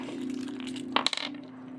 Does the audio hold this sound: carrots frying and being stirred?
no